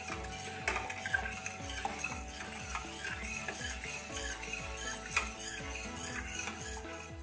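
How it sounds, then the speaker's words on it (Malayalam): A spoon stirs boiling passion fruit ice cream mixture in a pot, making steady, repeated scraping strokes that come close and clear, with no talking over them. "ഇളക്കിക്കൊണ്ടിരിക്കണം"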